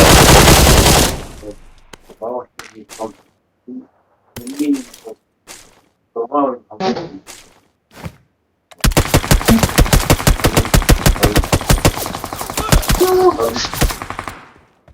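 Rapid bursts of gunfire crack out, first scattered single shots with gaps, then a long sustained automatic volley firing fast and loud, close to the listener.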